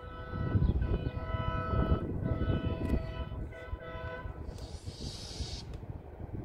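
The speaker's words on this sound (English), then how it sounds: "There's a track working vehicle with a train behind it." A rail track working vehicle passes with a train following behind, rumbling loudly nearby with sustained horn-like tones sounding over the rolling noise.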